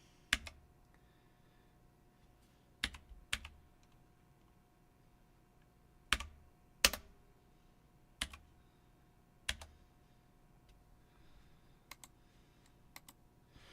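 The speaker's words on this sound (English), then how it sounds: "I just realized I need to turn off my keyboard and turn it back on again. That's what I'm having to type like that." A computer keyboard is typed on in sparse, separate bursts of sharp clicks with pauses between them, close and quiet, with no talking.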